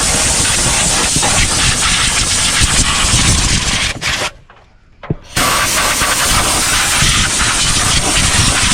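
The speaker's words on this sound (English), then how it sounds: "first we're gonna hit it with the air hose" A compressed air hose blasts loudly and close on the carburetor of an old Ford, a harsh continuous hiss that cuts off briefly midway and then resumes at full force.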